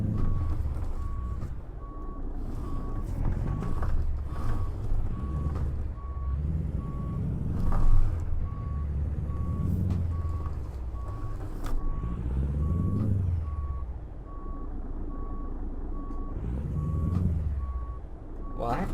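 A Mack Superliner truck in a driving simulator game sounds regular reversing beeps over a low engine rumble, steady and evenly spaced, while someone talks intermittently.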